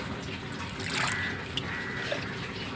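Diluted liquid fertilizer water, about ten litres mixed in a container, is poured onto plants, giving a steady soft trickle and splash that runs continuously at moderate level with light background noise.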